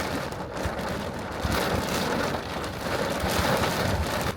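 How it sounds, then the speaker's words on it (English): Steady rain falls during a thunderstorm, a dense, continuous hiss of drops on surfaces with faint low rumbles beneath, no voices present. "It's freaking storming too."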